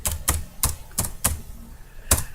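Computer keyboard keys pressed while typing text into Notepad, a handful of sharp, close clicks tapped in an irregular rhythm with no speech.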